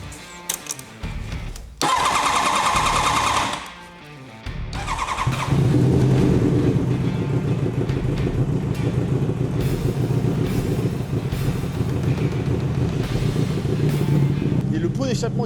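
Old wrecked car with a loose, disconnected exhaust: the starter cranks in short bursts, then the engine catches and settles into a loud, rough, steady running rumble, close by, with talk heard early on.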